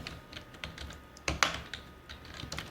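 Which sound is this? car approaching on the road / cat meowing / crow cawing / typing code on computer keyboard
typing code on computer keyboard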